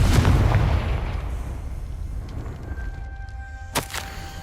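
Confringo spell explosion in the video game Hogwarts Legacy, a heavy booming blast right at the start that rolls off into a fading rumble, with a sharp magical crack later on.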